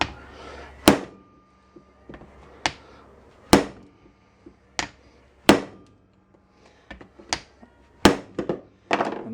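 Hammer blows land on a badly rusted tie rod end padded with a rag, from a Datsun 521 ball joint job: about ten sharp, separate metallic thunks at uneven intervals, close and loud, with quiet pauses between.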